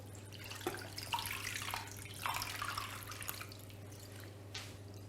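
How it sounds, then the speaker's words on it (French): Water is poured into a pan over beef cheek for a pot-au-feu, a steady splashing pour with faint drips running throughout against a low kitchen hum. "on va mettre de l'eau à hauteur de la viande"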